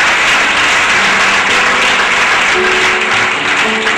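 A church congregation applauds steadily at an Easter consecration service, dense, sustained clapping filling the room for several seconds without pause.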